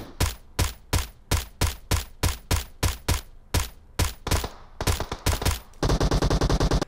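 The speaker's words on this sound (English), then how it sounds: "I could definitely fire at the same cadence" Rapid, evenly spaced shots from a QBU88 marksman rifle in PUBG Mobile with a 6x scope, about a dozen sharp cracks in steady rhythm, then a denser burst of quicker firing near the end, loud and close.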